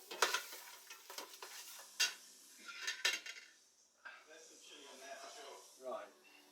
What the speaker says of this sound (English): I'll give it a bit of a stir, because there's a fair bit of stuff to go in